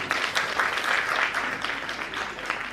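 An indoor college audience at a Buddha Jayanti event claps steadily for the lamp lighting, dense even applause lasting a few seconds with no speech.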